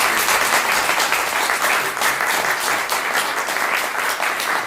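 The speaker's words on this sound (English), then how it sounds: "So one last round of applause for our group" Audience applause for a string quartet at a live concert, steady dense clapping from a full room throughout, loud and continuous with no voices.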